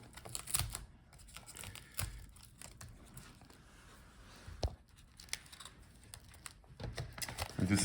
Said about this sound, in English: Now let's unfold the hinges.